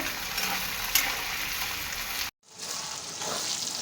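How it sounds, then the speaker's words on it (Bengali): Onions frying in oil in a wok for mutton biryani, a steady close sizzle that cuts out for a moment mid-way and then resumes at a similar level. "লাল লাল করে ভেজে নেব"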